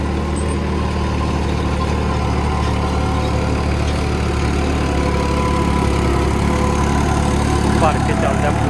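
A farm tractor fitted with an 8 to 8.5 foot super seeder idles with a steady, mid-pitched rumble, while someone talks over the engine close by.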